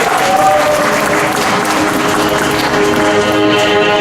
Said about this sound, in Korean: 다른 분보다 박수가 좀 많았죠?